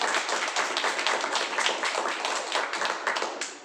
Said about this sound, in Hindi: जोरदार ज़बरदस्त तालियां हैं